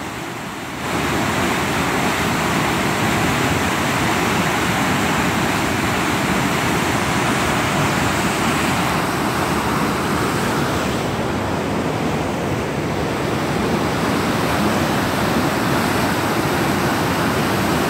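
Snowmelt-swollen river rushing through Takelma Gorge in Oregon, a loud, steady broadband roar of churning water that fills the whole clip after a brief quiet start, with no voices.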